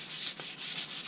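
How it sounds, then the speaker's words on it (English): Short, steady back-and-forth strokes of sandpaper on a burnt wooden tomahawk handle, a soft, close rasping with no talking. "use sandpaper on it. Just a little bit."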